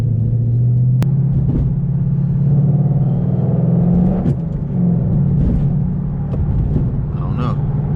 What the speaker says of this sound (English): we get that grind there